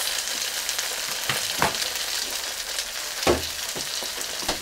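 Meatballs topped with sriracha fry in a pan with a steady close sizzle, broken by a few louder spatters and soft stirring scrapes.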